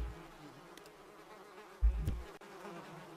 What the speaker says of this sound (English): what is that sound? It's flies buzzing.